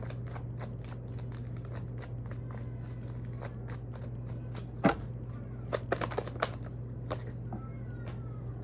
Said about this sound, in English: Give me a few more cards here, Spirit, out of this deck.